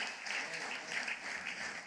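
A church congregation applauding during a sermon: a short, dense burst of many hands clapping that swells and dips for under two seconds, with no one speaking over it.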